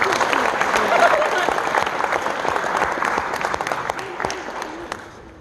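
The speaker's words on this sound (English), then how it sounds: "So let's give them a round of applause" Steady audience applause at a middle school band event honoring alto sax and flute soloists, a dense wash of clapping that holds for several seconds and slowly tapers, with faint voices mixed in.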